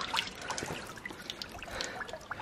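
Water trickling along a small stream or rivulet on a woodland path, a steady close babble with small splashes and drips, no voices.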